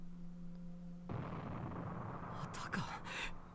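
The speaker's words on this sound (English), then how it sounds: "I heard another distant explosion and felt like what might have been the building shaking." A distant explosion in the visual novel game Chaos;Child, heard as a sudden low rumbling boom that swells in at once and holds as a sustained roar, with a few brief crackling bursts on top.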